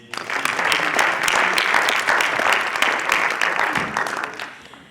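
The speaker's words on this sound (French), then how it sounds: "Merci d'applaudir Thomas Heinz." An audience at an eloquence contest final in France claps steadily for several seconds, dense and loud, fading slightly at the end.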